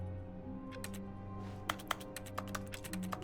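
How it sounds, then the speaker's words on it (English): Computer keyboard typing sounds in the video game The Stanley Parable, a quiet run of light, irregular key clicks in an office cubicle setting, heard alone with no talk. "If I click over here, it sounds like I'm typing a keyboard."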